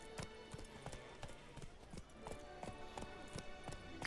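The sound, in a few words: horse Roach galloping in video game The Witcher 3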